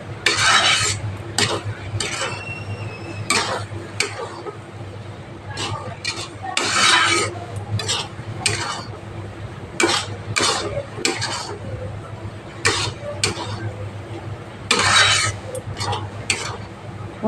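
Masala oats stirred in a pan, repeated bursts of spoon scraping against metal in an uneven rhythm over a low frying hiss, close and fairly loud.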